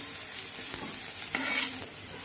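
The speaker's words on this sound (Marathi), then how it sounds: "कांदा आपण छान भाजून घेऊया" Onion browning in a hot pan for a paneer curry, a steady bright sizzle with occasional stirring scrapes and a brief louder burst, close and continuous with no talking.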